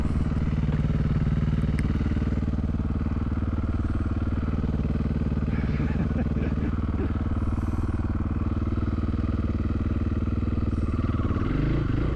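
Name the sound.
FE501 enduro motorcycle revving up a hill in first gear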